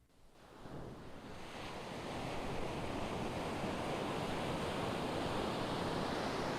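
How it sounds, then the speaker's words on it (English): Ocean surf builds from near silence into a steady, loud wash of breaking waves, broad and continuous with some wind noise and no voices. "Start with the ocean."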